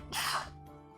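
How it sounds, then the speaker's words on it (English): A single sneeze bursts out over a steady hum as a tournament caster introduces a match, loud for about half a second, then fades back into the background drone. "I'm gonna sneeze."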